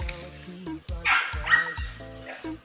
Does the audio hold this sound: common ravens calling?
no